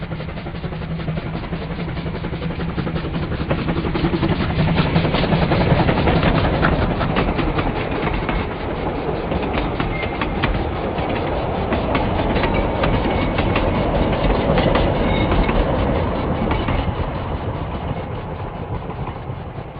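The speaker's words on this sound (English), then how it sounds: "I hear the train a-comin', it's rolling round the bend" A train rumbles steadily past with rhythmic clickety-clack of wheels on rails, loud and continuous throughout, no voices.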